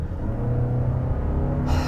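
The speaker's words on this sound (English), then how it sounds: "you put your foot down and the revs just flare" A Toyota RAV4 Adventure with a CVT gearbox accelerating, its engine giving a steady, moderately loud rumbling drone that holds its pitch for a couple of seconds.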